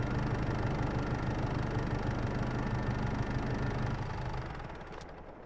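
Massey Ferguson 6S tractor in Farming Simulator 22 idling with a steady, rumbling mid-low engine drone that holds for several seconds, then fades and quiets toward the end, with no talking.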